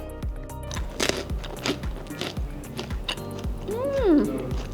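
Crisp, crunchy chewing of roasted masala foxnuts (makhana) close to the mic, repeated in a steady rhythm, with a brief tonal sweep near the end.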